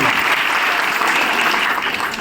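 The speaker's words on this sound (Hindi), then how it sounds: "उनके लिए जोरदार तालियां सर।" A crowd at a business achievers' event breaks into loud applause, a dense, steady roar of clapping hands sustained for a couple of seconds, close and full.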